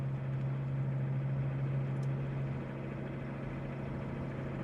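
A non-turbo 2.4 engine fitted with a big bore stainless exhaust hums quietly at light throttle from inside the car, a steady low drone with a constant tone that drops slightly partway through.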